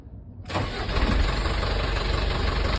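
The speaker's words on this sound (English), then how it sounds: "Turn the key and start the engine." A HOWO 4x2 15 cubic meter fuel dispenser truck's engine cranks and catches after a short quiet moment, then runs loud and steady close by until it cuts off.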